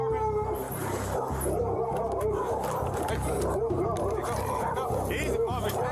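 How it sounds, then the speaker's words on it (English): Dog barking and whimpering inside a house during a Waco police raid, loud and close with repeated yips and howls over a constant rumble, while officers talk over it. "Dog back there."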